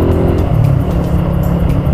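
A motorcycle engine revs hard and accelerates up close, a steady loud low roar with rising tones throughout, no talking over it.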